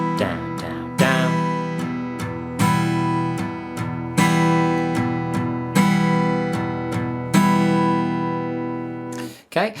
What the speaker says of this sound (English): So the first of our strumming patterns is a down, down, down strumming pattern.